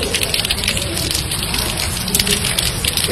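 Steady rain pours down outdoors, a dense even hiss of drops and gushing water, loud and close throughout, with no clear speech.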